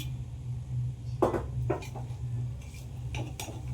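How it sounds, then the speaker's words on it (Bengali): Metal lid lifted off a pot of chicken biryani: a few close clinks and scrapes of metal against metal over a steady low stove hum. "ঢাকনাটা আমি খুলে দিলাম, বিরিয়ানি আমার তৈরি হয়ে গেছে"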